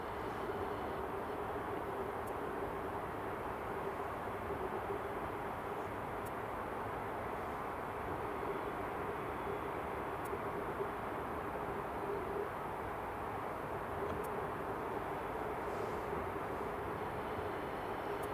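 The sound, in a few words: Delta Boeing 767 taking off from runway 24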